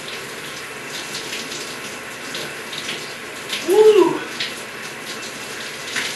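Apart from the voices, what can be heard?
shower water running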